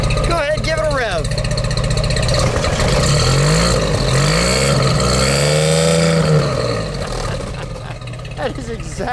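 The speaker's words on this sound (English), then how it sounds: "Go ahead, give it a rev." A loud 1953 Chevrolet Corvette engine revs up and holds high before settling back, rumbling steadily throughout with voices faintly mixed in.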